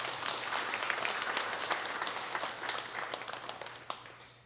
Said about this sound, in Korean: 그분들을 위해서 우리 박수를 한 번 더.